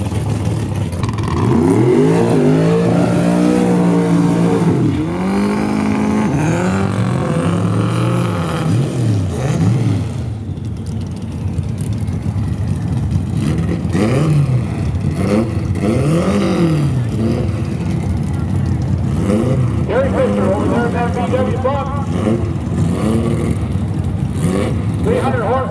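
Drag racing engines at the Crower Cup, including nitro methanol and run-what-you-brung classes, roar and rev loudly in a nearby pass, with rising and falling engine harmonics under steady crowd and track noise; a voice speaks briefly.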